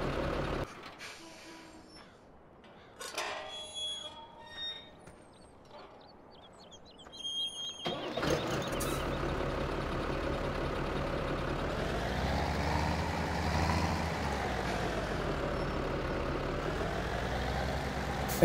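A tractor engine idles in the farming video game Farming Simulator 17, a steady low drone that starts abruptly partway through after quieter ambient sounds with bird chirps, then holds at an even level.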